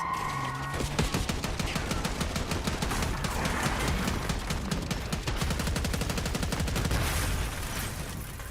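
Dense, continuous gunfire from a film street shootout, rapid machine-gun bursts and overlapping shots rattling loudly for several seconds with no break.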